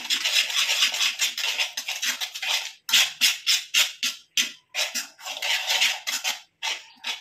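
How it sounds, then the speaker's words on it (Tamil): A spoon scrapes and clatters in a bowl while coffee powder is worked into ground hibiscus flower paste, giving rapid, rhythmic close-up scratching strokes that pause briefly midway and then carry on. "இப்போ ரெண்டையும் நல்லா மிக்ஸ் பண்ணிக்கலாம்"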